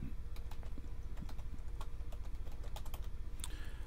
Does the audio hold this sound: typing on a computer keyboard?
yes